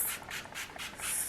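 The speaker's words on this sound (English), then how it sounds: "So then I just spray this all over my hair" Ouai hair spray is misted onto hair in several quick hissing bursts, close and soft, one after another with short gaps.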